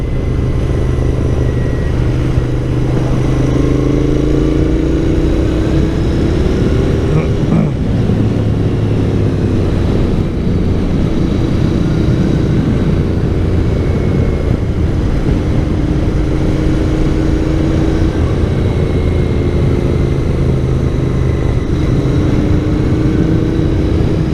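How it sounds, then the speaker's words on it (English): Royal Enfield Interceptor 650 motorcycle engine on the road, a loud continuous low rumble with pitch falling and rising as the rider comes off the gas in a lower gear, wind noise throughout. "I like how this sounds when you come off the gas in lower gear."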